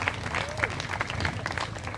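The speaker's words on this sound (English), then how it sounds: "Big round of applause" Applause from an awards-ceremony crowd at the Concours d'Lemons California 2021 car show, a steady wash of clapping that runs the full two seconds with voices mixed in.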